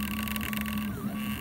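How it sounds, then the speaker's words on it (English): A 3D printer printing a simple rectangle on a smooth PI sheet gives a steady whirring motor drone with a tonal hum and a brief sliding pitch change, close and continuous without talk. "now we're printing on the smooth PI sheet"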